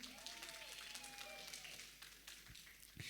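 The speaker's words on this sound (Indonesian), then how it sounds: "Berikan tepuk tangan yang meriah" Audience applause after a student's youth scientific paper presentation, a steady wash of clapping through the short stretch, with a faint tonal whine and a couple of knocks near the end.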